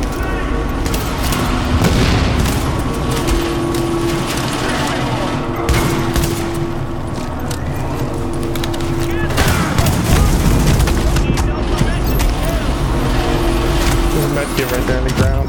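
Dense gunfire in The Division video game, with rapid bursts and overlapping shots over a steady game soundscape and a sustained tone, loud and continuous throughout.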